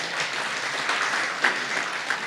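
A church congregation at a leaders' marriage camp claps together in a brief burst. The applause is moderately loud and even, with a couple of sharper accents.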